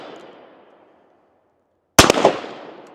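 A single sharp, loud shot from a Smith & Wesson 686 Competitor revolver fired one-handed, ringing out after the fading tail of an earlier shot and then decaying over about a second.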